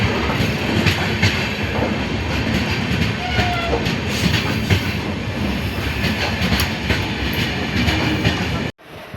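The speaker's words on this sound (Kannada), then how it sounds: "ಟ್ರೈನ್ ಬತ್ತು ಹತ್ತೇವೆ ನೋಡ್ರಿ." A passenger train pulls in and keeps running, giving a loud, continuous rumble with rhythmic wheel clatter close by and no talk on top.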